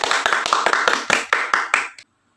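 A classroom group applauds together for group 2 in rhythmic unison, about nine crisp, evenly spaced claps that stop abruptly into silence.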